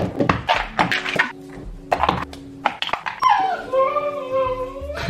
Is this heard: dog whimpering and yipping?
yes